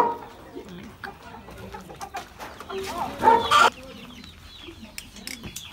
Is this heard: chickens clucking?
yes